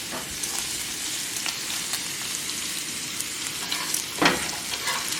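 A bacon burger patty sizzles steadily in a pan, with a constant close crackling hiss and one brief louder pop near the end, and no talking.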